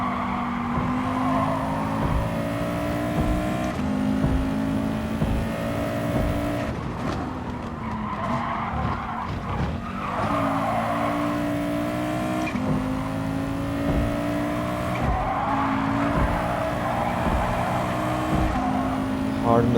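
A race car engine at full throttle in a racing video game on the Tokyo Expressway South circuit, a steady high-revving drone with shifting pitch and occasional tire squeal, under continuous commentary.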